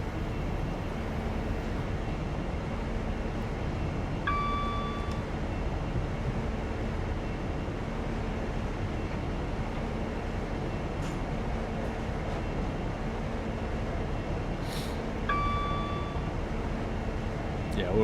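A commuter train in Train Simulator rumbles along in a steady, continuous low drone, with two brief tonal chimes partway through and no break in the engine and track noise.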